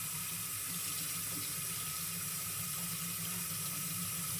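Water runs steadily through a Wagner Flexio paint sprayer gun as it is rinsed of paint, a continuous close tap-like rush and hiss with no break.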